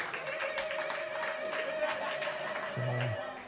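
Audience applause and cheering for Baldwinsville Bees boys lacrosse players at Pizza Man: a steady, dense wash of clapping over a sustained tone, with a brief low sound near the end.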